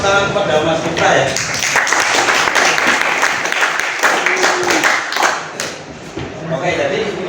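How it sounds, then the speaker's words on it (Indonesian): Classroom applause from students at a vocational high school as a pupil finishes a gear-ratio problem, a lively burst of clapping with taps and thumps that thins out near the end. "kasih tepuk tangan kepada Mas Miftah ya"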